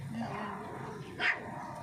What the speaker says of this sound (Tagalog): O, matapang na yung aso niya sa ilalim o. Patahol na.